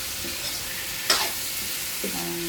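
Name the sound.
chicken liver sautéing for chopsuey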